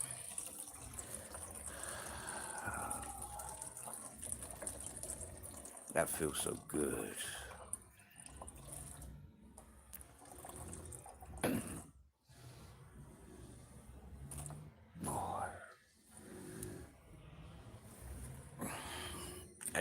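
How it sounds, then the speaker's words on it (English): A man urinates into a plastic PP water bottle with a wide neck beside a road. Intermittent trickling and splashing liquid runs through the clip while he talks over it. "I think it's a bit more respectful pissing in these water bottles than pissing on the road or pissing on the trees"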